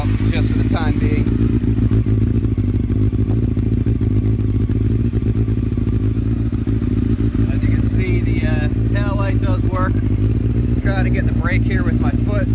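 A 1998 Honda CBR F3 600cc sport bike idles steadily and loudly up close, its temporarily JB-welded exhaust giving a continuous low rumble, with a person talking over it in the later seconds.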